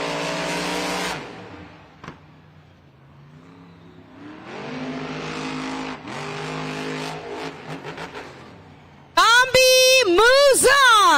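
A Shell Shocked monster truck at a Monster Jam stadium event in San Diego roars, pops and stalls mid-turn, the loud engine dropping to a lull before revving again, all under an announcer's commentary.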